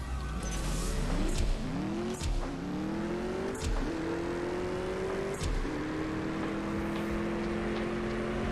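Drag race in CSR2, a mobile racing game: an engine revs up steadily through several gear changes, each marked by a brief dip and a fresh climb in pitch. The note stays loud and continuous throughout with no talking.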